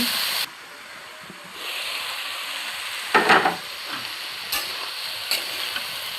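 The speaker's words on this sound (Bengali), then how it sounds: "পেঁয়াজ মরিচ দিয়ে হলুদ লবণ দিয়ে করলাগুলো দিয়ে ভেজে নিচ্ছি" Bitter gourd frying in a pan with onion, garlic, chili, turmeric and salt: a steady loud hissing sizzle that drops briefly and swells again, broken by a few scraping stirs, no talking.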